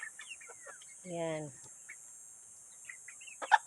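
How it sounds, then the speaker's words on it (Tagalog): A few small backyard chickens cluck in short bursts, including one harmonic, drawn-out call and sharper clucks near the end, fairly close and otherwise quiet, with a brief spoken word. "Meron din ako munting mga manok."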